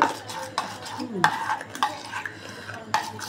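A spoon or whisk beats a salted egg batter of sooji and maida in a bowl, with a quick run of sharp clinks and scrapes against the side in an irregular rhythm, close by and clear.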